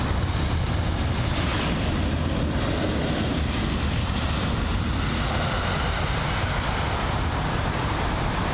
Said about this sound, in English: That A350 producing a pretty decent landing